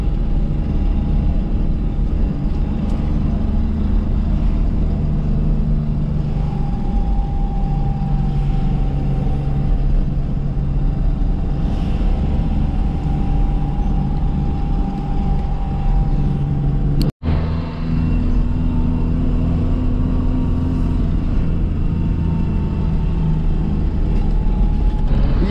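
Steady car interior road noise and engine hum run continuously on a Saturday drive back, with one brief dropout partway through and no talk.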